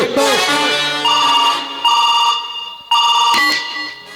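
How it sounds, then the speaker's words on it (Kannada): A telephone rings loudly nearby in three repeated electronic melodic bursts, each with a bright, steady tone, and no one speaks. "ಆ ಇನ್ಸ್ಪೆಕ್ಟರ್ ಸಂದೀಪನಿಗೆ ಮೊದಲು ಫೋನ್ ಮಾಡಲೇಬೇಕು"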